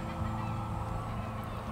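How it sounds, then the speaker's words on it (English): A seagull in the video game Life is Strange gives a steady, honking call lasting just under two seconds, fairly loud and close, with no speech over it. "Look at that seagull."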